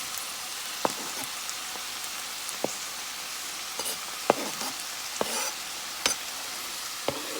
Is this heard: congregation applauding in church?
no